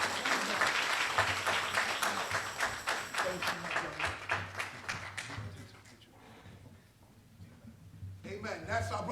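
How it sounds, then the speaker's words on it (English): A church congregation applauds vigorously with rapid, dense clapping that fades away midway, and voices rise again near the end. "Give him another rousing round of applause."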